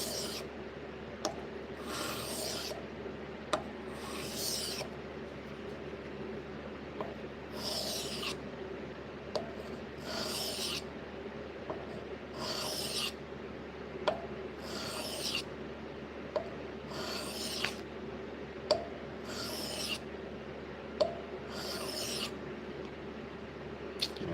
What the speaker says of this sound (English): Now we're working our blade edge.